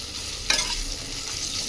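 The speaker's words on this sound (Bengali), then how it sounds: "দিয়ে আদাটা খুব ভালোভাবে ভেজে নিই।" Ginger, garlic and onion frying in hot oil give a steady close sizzle, with one brief stir or clatter near the start and no voices.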